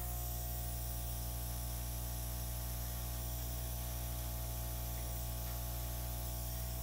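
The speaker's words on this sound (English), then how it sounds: "you're zigzagging your airbrush just a little bit" An airbrush sprays acrylic paint in a steady, unbroken hiss that runs evenly and close at hand for the whole stretch, with a low hum underneath and no voices.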